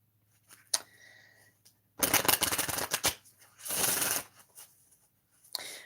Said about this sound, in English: Let me just shuffle really quick.